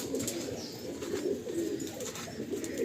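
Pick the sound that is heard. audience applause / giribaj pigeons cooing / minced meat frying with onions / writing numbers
giribaj pigeons cooing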